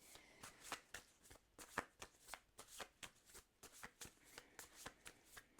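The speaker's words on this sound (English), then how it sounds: "give it a Really good shuffle" Oracle cards being shuffled in quick, rhythmic riffles, a steady run of crisp flutters up close with no talking.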